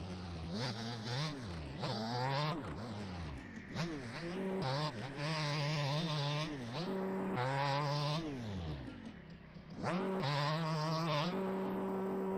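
A motocross bike engine in the MX Bikes video game revs hard and shifts repeatedly, with its pitch climbing and dropping through gear changes. The sound is loud, close and continuous, with no talk over it.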